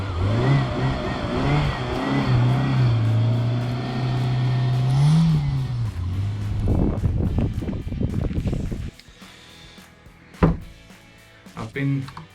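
A Fiat Uno Turbo engine idles and revs while warming up, a loud close hum with rising and falling revs that cuts off abruptly partway through, followed by quieter knocks and wind noise.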